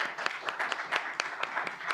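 A conference audience applauds a panel, a moderate, slightly sparse patter of clapping with distinct individual claps, no talking over it.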